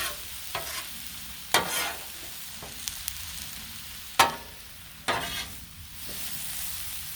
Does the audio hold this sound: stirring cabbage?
yes